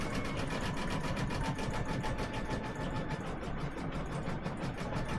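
Embroidery machine stitching a design in red thread on a tea towel, a steady rapid mechanical chatter with a low motor hum running continuously and close by, no talking over it.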